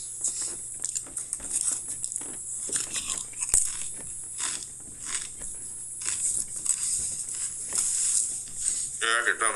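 Pringles Texas BBQ Brisket chips crunched and chewed close to the mic in repeated bursts, with people talking over the snacking.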